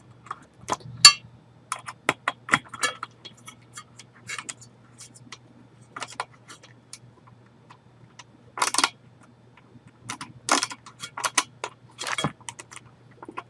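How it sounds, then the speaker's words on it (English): A ratcheting precision screwdriver works in a tight space during desktop PC assembly, giving sparse, faint clicks and scratchy ticks in short bursts over a low steady hum. "I have a ratcheting precision screwdriver to help me with tight spaces"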